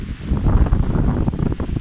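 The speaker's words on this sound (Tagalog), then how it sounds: "Perting kusog ang hangin." Strong wind rushes and gusts across the microphone during a rainy storm, a loud, steady roar with no voices.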